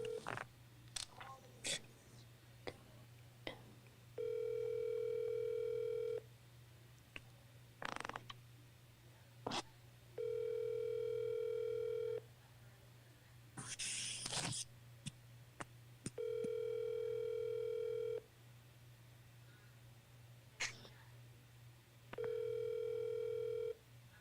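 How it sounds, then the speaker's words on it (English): Outgoing phone call ringback tone: four steady two-second tones repeating at even intervals with quiet gaps between them, joined by a few faint clicks and creaks. Nobody speaks. "Let's call Matt."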